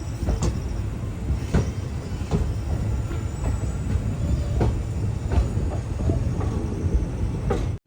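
Ernakulam–Velankanni express train pulling out of Nagapattinam station, a steady low rumble with sharp periodic clacks and knocks from the carriages, heard from on board at constant volume without speech.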